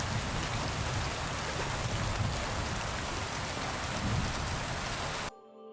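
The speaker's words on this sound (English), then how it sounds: "I can barely hear him with all the rain" Heavy rain pours steadily in the video game Kingdom Come: Deliverance 2, a dense continuous downpour with drops pattering on surfaces, loud and unbroken until it cuts off abruptly near the end.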